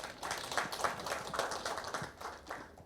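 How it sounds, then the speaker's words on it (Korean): An audience at a lecture event applauds with quick, soft clapping that rises and falls in bursts for a few seconds, faint and somewhat distant, with no talking. "다시 한번 큰 박수 부탁드리겠습니다."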